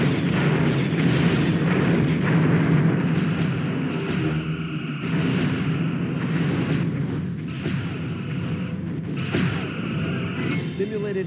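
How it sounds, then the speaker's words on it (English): An enemy ship explodes in the Star Trek Bridge Commander space combat game, a loud sustained rumbling blast with layered booms and debris whooshes over a dense continuous roar. "Simulated enemy ship has been destroyed."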